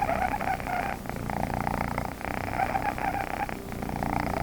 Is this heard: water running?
no